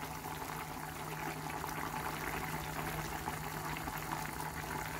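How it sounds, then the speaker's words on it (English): Fish and cauliflower curry at a rolling boil in a pot on high heat, a steady close bubbling hiss with a faint hum underneath, no talk. "So my curry has come to a rolling boil."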